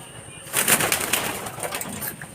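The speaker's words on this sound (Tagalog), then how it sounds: "So, ito mga kalapatids." Pigeons cooing close by in a Pampanga racing-pigeon loft, a soft burst of bubbly coos and rustling starting after a quiet half second and continuing steadily, with no talking.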